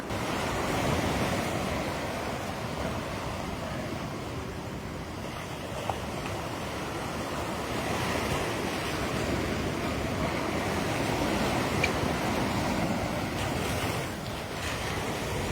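Rough sea surf pounding the eroding coastline at Thirukkovil, a continuous loud roar of breaking waves mixed with gusting wind buffeting the microphone, with no voices.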